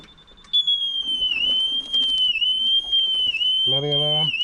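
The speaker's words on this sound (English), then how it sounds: "Bloody alarm." A steady high-pitched electronic alarm tone beeps on and off near a Triumph Tiger 1050 motorcycle on a mountain pass ride, ringing continuously under a voice and background wind.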